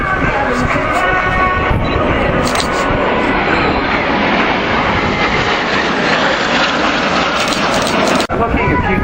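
Breitling jet team aircraft flying at the Fairford Royal International Air Tattoo airshow in 2014, a steady loud roar of jet engines filling the air, with people talking over it.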